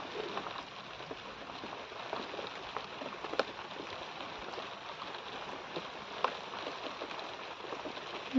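Soft, even rain falls on a vegetable farm while vegetables are being picked, a faint steady patter with occasional drops, heard without talking.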